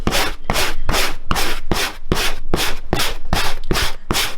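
A brush scrubs old orange foam off a vehicle headliner board in about ten rapid, evenly spaced strokes, loud and close, each a harsh scratchy rasp.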